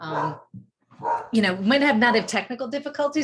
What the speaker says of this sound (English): I'm so sorry if you guys can hear my dog in the background.